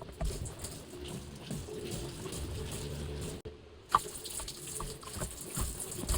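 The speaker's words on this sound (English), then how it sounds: "I'm just going to use the hand bulb for now because I don't have a electric fuel pump to pump any of this fuel out" A hand bulb pumps fuel out of the tank of a Scout 155 boat, giving a soft gushing, trickling liquid flow with a short pause partway through.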